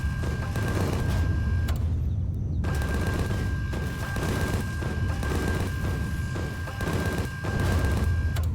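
Dense, loud gunfire from the space survival game Empyrion rattles on without a break, with rapid overlapping shots and booms that fill the whole stretch, with no talking.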